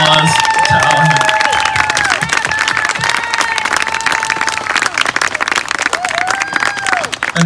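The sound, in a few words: audience applause for Alejandra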